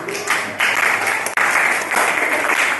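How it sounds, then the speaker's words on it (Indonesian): Applause from a class of students filling a school room, a steady dense patter of clapping close by with a brief dip midway. "Tepuk tangan untuk kita semuanya."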